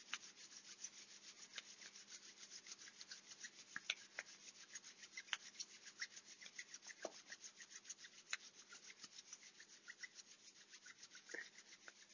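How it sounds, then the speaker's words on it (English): Two palms rub briskly together over and over, a dry, raspy swishing in a fast, steady rhythm, close and clear with nothing else heard. "let's rub our hands together and first pay attention to the sound our hands make as they rub"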